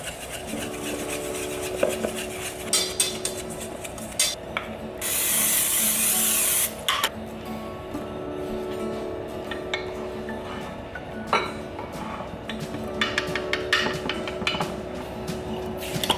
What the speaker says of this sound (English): then we're gonna whisk this